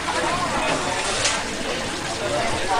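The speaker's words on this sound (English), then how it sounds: "Two basketballs. We can try it. They're a little tough to flush." Water rushes and swirls steadily through a Niagara Stealth low-flow toilet as it flushes, loud and close, with a voice faintly underneath.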